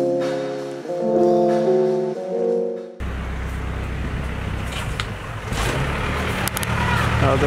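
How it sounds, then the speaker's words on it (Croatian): A truck arrives to be loaded at a studio build site. A steady low engine rumble and road noise take over abruptly after a few seconds of tonal music, with voices talking over the engine. "Evo došao kamion, sad ćemo krcati sve."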